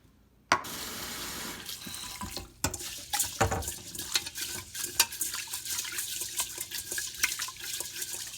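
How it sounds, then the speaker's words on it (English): Water gushes from a tap into a pot to rinse long grain rice, starting abruptly and running steadily with sloshing, stirring and grainy swishing close by. "I'm going to rinse the rice."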